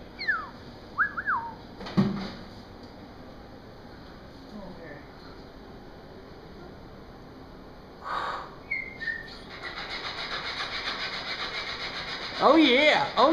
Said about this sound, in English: You're a pretty bird.